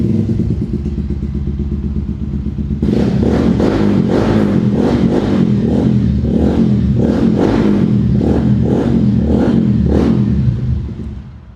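A Taro GP 2 200cc 2025 motorcycle fitted with an aftermarket exhaust idles with a deep burble, then revs hard in a series of sharp, loud throttle blips, its throaty exhaust crackling between pulses.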